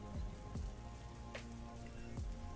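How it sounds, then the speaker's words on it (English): Soft rain patters steadily behind a low, mellow music track, with gliding bass notes under the continuous hiss. "Little rain in the back."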